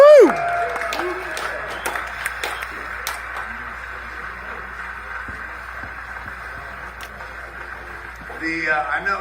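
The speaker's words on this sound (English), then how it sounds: "just one more round of applause for Mandy." Audience applause at a live Q&A event, a steady wash of clapping and scattered cheers with a voice talking over it, swelling again toward the end.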